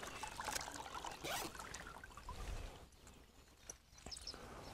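Water trickles and drips steadily as it drains off soaked fishing pellets for method feeder carp bait, close up, with light knocks and handling sounds.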